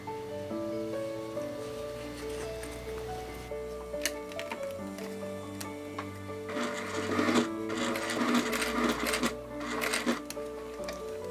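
A sewing machine stitches through a thick strap in a steady mechanical whirr with a rhythmic chatter, pausing and restarting while the needle works through the heavy material up close.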